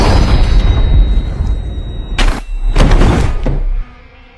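A gunshot from the 2016 horror film Don't Breathe: two loud, sharp bursts a moment apart, sitting over a dense, rumbling soundtrack bed that drops away abruptly near the end.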